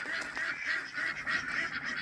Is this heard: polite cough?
no